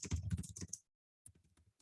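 Keys clatter on a computer keyboard as a search query is typed, with a quick run of close, crisp clicks, then a pause of near silence and a fainter second burst of tapping.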